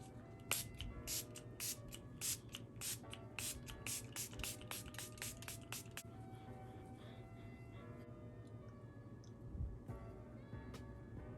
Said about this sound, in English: I'm gonna spray my face with my Milani Make It Last setting spray